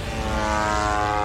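An attack drone flying over Moscow gives a loud, steady propeller drone with a buzzing, engine-like whine that holds continuously and close throughout, with no voices.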